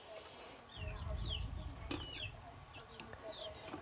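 A chicken clucks nearby in a rural village yard, with soft chirps and short calls over outdoor background noise and a brief flutter.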